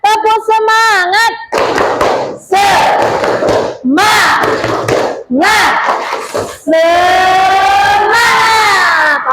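A class chanting loudly in unison with rhythmic clapping bursts for a spirit cheer led by a teacher, voices rising and falling in repeated phrases between claps.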